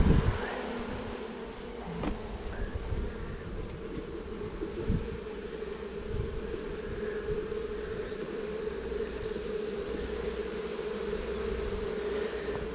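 Honey bees, Apis mellifera, buzzing around an open hive frame, a dense steady drone close by with individual bees flitting past, continuous and fairly soft.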